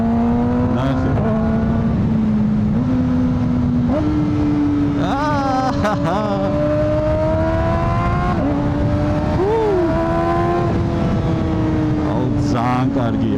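A Kawasaki ZX4RR inline-four sport bike revs hard and downshifts, its high-pitched engine note climbing and dropping in steps, with someone talking over it throughout.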